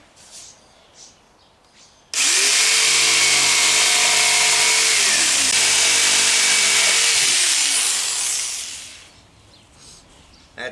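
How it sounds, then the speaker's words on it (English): A jigsaw cutting wooden boards for a DIY speaker box whines loudly and steadily for about seven seconds, then winds down, with quiet before and after. "I'm just using the jigsaw to cut it with"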